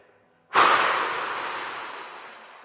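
A single long, steady exhale through the mouth during a lying-down relaxation breathing exercise, close and fairly loud, following a short quiet pause.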